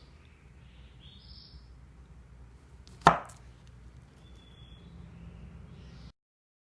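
A single crisp knife cut through a saba banana on a cutting board, sliced diagonally about half an inch thick, lands as one sharp close tap in an otherwise quiet kitchen with faint background chirps.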